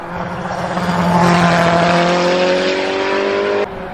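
A toy race car whirs with a rising motorized whine, steady and fairly loud for about three and a half seconds before cutting off abruptly.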